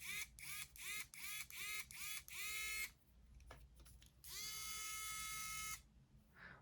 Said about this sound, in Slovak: Skrutkovač má samozrejme pravý a ľavý chod.